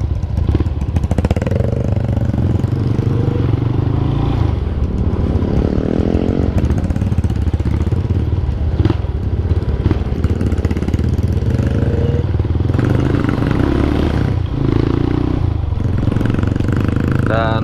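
A motorcycle rides along a muddy, waterlogged trail near Bogor, its mid-pitched engine droning steadily and loudly throughout, rising and easing with throttle, with clattering and splashing mixed in close to the rider.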